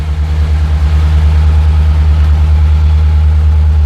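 LS V8 swapped into a 1984 Ford Bronco II with Holley EFI, idling smoothly at about 1100 RPM in warm-up mode; a steady, loud, close low rumble with no speech throughout.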